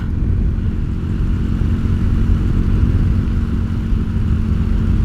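A budget bobber motorcycle with a modified carburetor slide runs steadily nearby, its engine producing a loud, continuous low rumble that holds fairly even throughout, with no one speaking.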